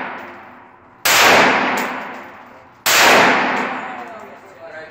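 Two loud, sharp AR-15 rifle shots crack about two seconds apart at a shooting range in Las Vegas, each followed by a long ringing decay.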